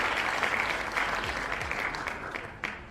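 A small burst of steady clapping for a giveaway winner on a live day-trading stream, moderately loud and continuous for a few seconds with no talk over it.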